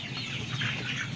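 Chickens cluck and murmur inside a crowded farm coop holding about 250 birds, a steady close-up chorus with no talk.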